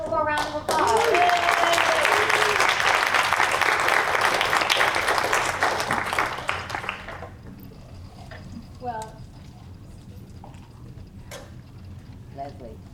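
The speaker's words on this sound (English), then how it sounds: "Everybody give a little more round of applause." A disability history symposium audience breaks into a loud, dense round of applause that lasts several seconds before fading, with voices briefly heard as it starts and scattered quieter sounds after it dies away.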